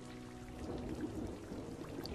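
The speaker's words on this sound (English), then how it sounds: "Rain! Sweet rain." Steady rain pours down as a sound effect, a soft, even hiss of drops with a low rumble underneath, continuous and without speech.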